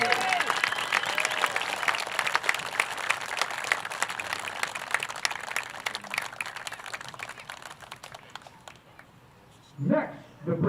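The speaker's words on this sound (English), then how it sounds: "Let's have another round of applause for the Bravest family." A crowd at a football game between the FDNY and NYPD teams applauds with sustained, dense clapping that tapers off, followed by a brief voice near the end.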